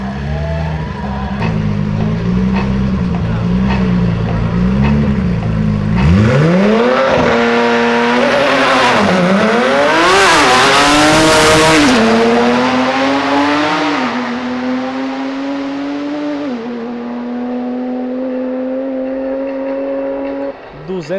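Brazil's fastest Nissan GT-R race car, idling, then launching with a loud rising howl, revs sweeping up and down through the gears while it slides sideways with tire squeal, then settling into a steady high drone that fades slightly.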